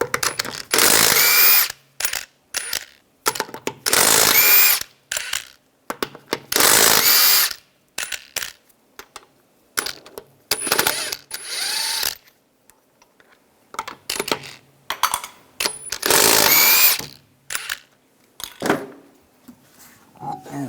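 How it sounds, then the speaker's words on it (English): A socket wrench loosens lug nuts on an Infiniti FX35 wheel in bursts of loud ratcheting and tool whirring, separated by pauses and small metallic clinks. "Using a 21mm socket, take the lug nuts off."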